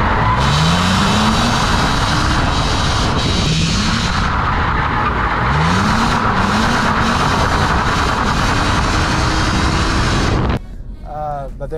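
A BMW car engine roars loudly under hard acceleration on the Autobahn, pitch climbing repeatedly through gear changes before cutting off abruptly.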